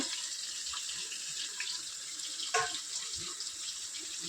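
Tap water runs steadily into a sink as raw chicken is rinsed for chicken bagara rice, a continuous hiss with one brief louder splash midway and no talking.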